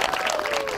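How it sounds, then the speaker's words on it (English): A baptism congregation breaks into applause, a brief dense patter of many hands with a faint sustained tone running beneath it. "give Susie a round of applause"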